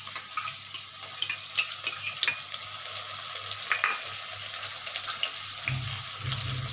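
Whole spices (dried red chillies, cinnamon, cardamom) sizzle quietly in a pan for chicken kasa while a spoon stirs with soft scraping and light clicks, a low steady fry underneath.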